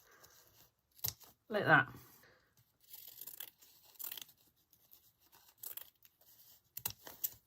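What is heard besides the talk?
scissors cutting ribbon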